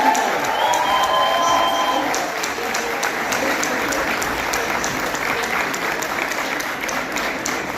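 A graduation crowd of parents and graduates claps at a medical university ceremony, loud sustained applause with some cheering, easing slightly after the first couple of seconds while a voice comes through faintly underneath.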